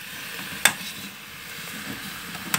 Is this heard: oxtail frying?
yes